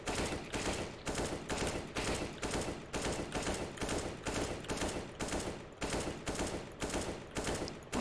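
Rapid gunfire from Counter-Strike aim practice: steady bursts of shots in a regular rhythm, each burst brief and evenly spaced, fairly quiet and with no talk over it.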